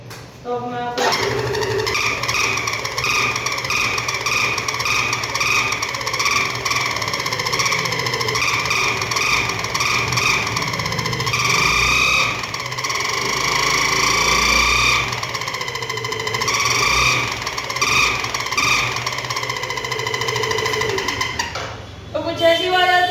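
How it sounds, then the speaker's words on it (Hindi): Alpha scooter engine after a sound modification, a loud steady running note with rough buzzing harmonics held for about twenty seconds, rising and falling slightly in revs, close to the listener. "कुछ ऐसी आवाज आती है इसकी,"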